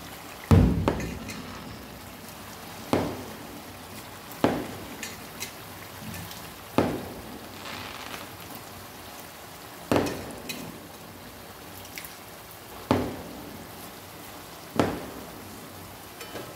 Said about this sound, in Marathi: तर आता मी ह्याच्यात तांदूळ टाकून घ्यायला लागले.